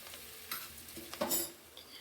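Onions and potatoes being stirred in a pan at home, soft sizzling under a few scraping strokes and light clinks of the spoon, close but quiet and brief.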